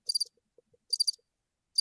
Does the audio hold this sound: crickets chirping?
yes